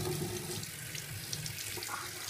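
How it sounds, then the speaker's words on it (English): Water runs steadily from a bathroom tap into a sink during a shave, a continuous soft hissing splash that is quiet and close, with no voices over it. "Turn off the water."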